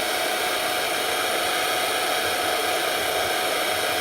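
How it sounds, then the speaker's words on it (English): Hair dryer blowing steadily on a dented car body panel, a loud continuous broadband whoosh with a constant motor hum and no pauses or talk throughout. "We're gonna use hair blower."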